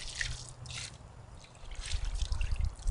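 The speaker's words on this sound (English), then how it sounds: "you just want to occasionally give it a rinse" Water trickles and drips while a used Blackstone griddle is rinsed, a steady close splashing that grows louder and fuller toward the end.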